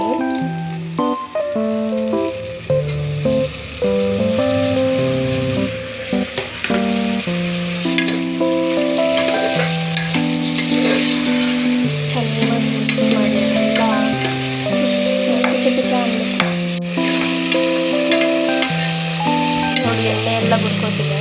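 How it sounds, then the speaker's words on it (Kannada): Tomatoes frying and being stirred in oil in a pan for chicken pulao, a steady sizzle sitting under loud, continuous background music throughout. "ಚೆನ್ನಾಗಿ ಫ್ರೈ ಮಾಡೋಣ. ಟೊಮೊಟೊ ಎಲ್ಲ ಚೆನ್ನಾಗಿ ಬೇಯಬೇಕು."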